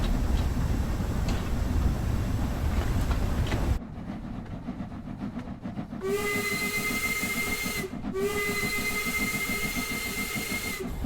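A steam locomotive's whistle in Train Sim World 3 gives two long, loud blasts separated by a short break, preceded by heavy hissing steam from the open cylinder cocks.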